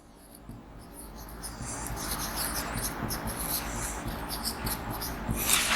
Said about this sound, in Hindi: अगर मैं इसको ऐसे लिख देता हूं